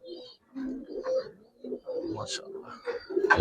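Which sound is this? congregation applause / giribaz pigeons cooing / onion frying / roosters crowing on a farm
giribaz pigeons cooing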